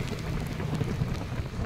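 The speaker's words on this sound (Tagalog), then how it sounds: "Inabutan na tayo ng malakas na ambon." Heavy drizzle at night beside a national highway, a dense, continuous rush of rain close by with no voices.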